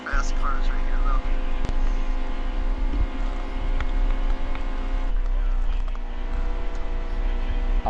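Race cars drive in a stock-car racing video game at Las Vegas: a sustained, steady multi-car engine drone with occasional clicks and a shift in pitch partway through, and someone talking over it.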